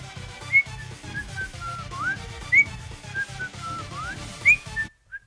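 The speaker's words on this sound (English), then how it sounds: "Stop fucking whistling." Short bursts of human whistling, a few rising and sliding notes repeated over a steady low background, fairly quiet, then stopping abruptly.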